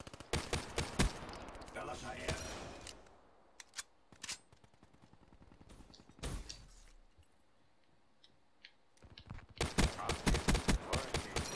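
Bursts of rapid gunfire from the MX Garand in Black Ops 3 crackle in short volleys with quiet gaps between, some single sharp shots, and a voice talking faintly in the lulls.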